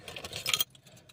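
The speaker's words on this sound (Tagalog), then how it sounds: "At kunin muna natin yung susi." Car keys jangling as they are pulled out, a short metallic jingle lasting about half a second that ends abruptly, followed by quiet room tone with faint ticks.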